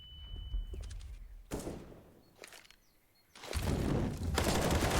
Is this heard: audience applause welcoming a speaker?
no